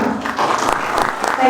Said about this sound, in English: So with your clap, Sir Asim Ali Shah.